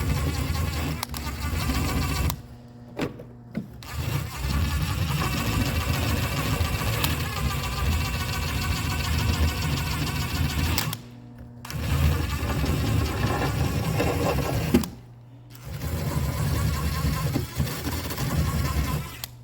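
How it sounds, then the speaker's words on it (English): Wire wheel cleaning a vintage Snap-On ratchet, a loud continuous whirring grind broken by several short gaps where the tool pauses. "I do this the easy way and use a wire wheel."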